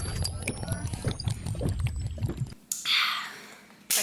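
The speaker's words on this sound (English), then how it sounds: "I'm gonna drink some water" Water pours into a drinking glass or bottle as a steady splashing rush in the second half, close and fairly loud, following a stretch of louder movement and handling noise.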